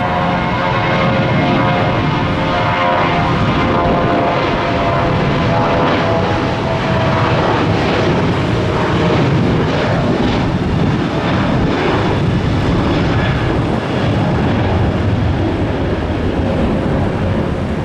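A passing airliner at Tampa International Airport, a loud sustained engine roar and broadband rush that holds steady throughout, heard close by with no talk.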